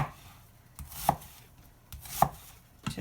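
An onion is cut with a knife on a cutting board for chicken barley soup: a few sharp, quiet chops spaced about a second apart, close by and with no talking.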